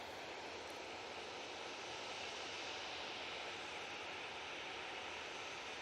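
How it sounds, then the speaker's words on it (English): A Qatar Airways Dreamliner airliner at Manchester Airport produces a steady, unbroken engine roar that holds an even loudness throughout, with no voices. "Got the first of the Qatar Dreamliners now making its way over towards us."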